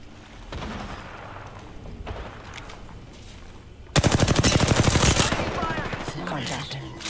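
Apex Legends gunfire bursts out midway as a rapid, loud automatic volley, each shot crackling in a dense run of sharp reports over quieter game ambience.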